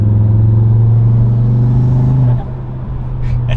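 A 2024 Audi RS3 fitted with an ECS Tuning cold air intake revs with a deep, rumbling engine note and induction noise that holds and then drops away, followed by a quieter idle and a brief high whoosh.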